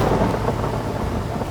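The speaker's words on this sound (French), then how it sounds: "C'est le tonnerre?" Thunder rumbling during a storm in a forest, a loud, continuous low roar mixed with the hiss of rain, with no voices.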